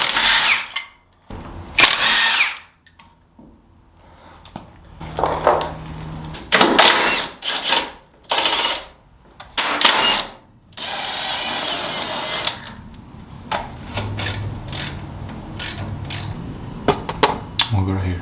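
A power tool takes the wheels off a C5 Corvette, sounding as bursts of loud whirring and rattling that start and stop repeatedly, with quiet gaps and short stretches of talking between them.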